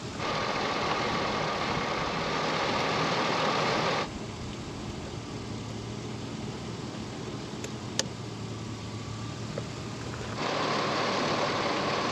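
A farm engine fitted with a new gear reduction starter runs steadily after starting, a close, even rumbling drone that drops in level partway through and then rises again, no voices.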